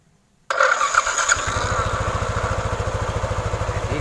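A Yamaha NMAX scooter with a faulty starter is jump-started: after a brief silence a cranking burst catches and the single-cylinder engine settles into a steady, rapidly pulsing idle, close and loud throughout.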